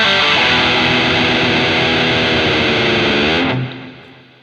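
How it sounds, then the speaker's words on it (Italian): A Grote electric guitar with heavy distortion plays a loud, buzzing sustained chord that rings steadily, then is abruptly cut off near the end. "suoni distorti"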